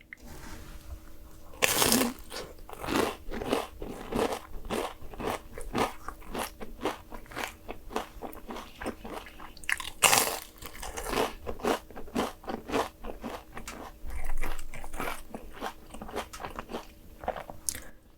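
Close crunchy bites into crisp air-fried churros with cinnamon sugar, a few loud snaps followed by steady crackling chewing, fairly near and without talk.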